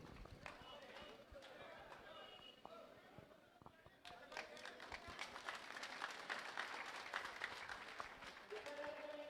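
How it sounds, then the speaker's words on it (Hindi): A crowd at a large political rally in Sri Dungargarh applauds, with sustained clapping that swells louder partway through, mixed with crowd chatter and a voice speaking over it. "जोरदार तालियों से स्वागत।"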